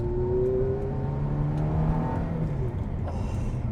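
A Ferrari F430 with a manual gearbox revs its engine, a steady, fairly loud mechanical hum with a tone that swells and then falls back.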